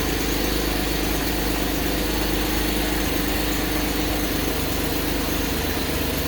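A 2007 Cadillac CTS with a swapped-in 2.8L engine idles in reduced-power mode, a steady, close, continuous rumble with no pauses and no voices over it.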